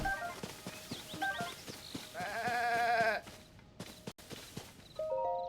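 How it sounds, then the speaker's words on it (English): A few short white goat bleats ring out amid game music in The Legend of Zelda: Tears of the Kingdom, with light footsteps and a steady rhythmic thump, and one louder sustained bleating burst in the middle. "Oh, hello there, goats."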